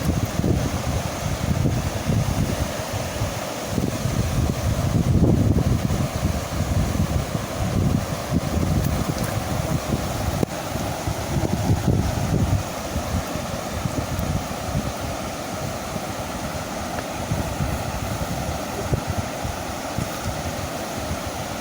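Strong wind buffets the microphone outdoors during lift-net fishing under an overcast sky, a loud, continuous roaring rumble with gusty swells.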